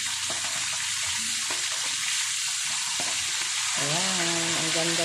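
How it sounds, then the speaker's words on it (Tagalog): Food sizzles steadily in a pan that it is not sticking to, a continuous close frying hiss with faint clinks of a utensil and no voices. "Ang ganda ng pagkaprito ko."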